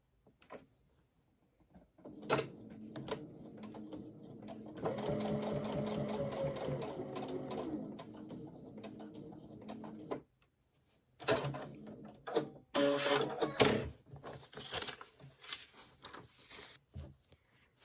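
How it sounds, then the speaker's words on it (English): A domestic sewing machine stitches fabric for a paper-pieced bird quilt block, running in three bursts: a short one, a long steady run, then a final stretch with brief pauses, all close and clear with no talking. "we're going to sew the other side of the leg"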